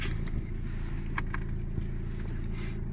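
A 2016 BMW 218d diesel engine idles steadily with a low, even drone and no other sounds standing out over the three seconds.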